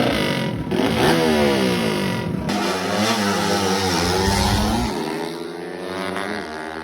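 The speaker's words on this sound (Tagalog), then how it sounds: "makarinig ka dito sa mga tunog ng mga motor nila" Trail bike motorcycles at a legal drag race in Bayawan City give a loud, close engine drone that revs and sweeps up and down in pitch, with a brief higher whine layered over it.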